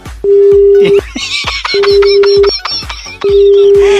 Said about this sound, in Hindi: अर्चना जी, इन्होंने तो फोन काट दिया है।